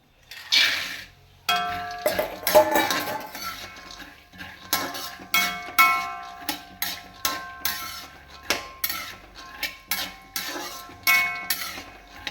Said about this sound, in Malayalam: വറുത്തെടുക്കാം കേട്ടോ